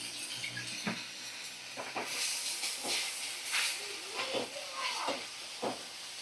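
Ginger-garlic, poppy seed and mustard paste sizzles in a hot pan for a bhetki fish dish, a steady close hiss with occasional sputtering crackles and scraping stirs.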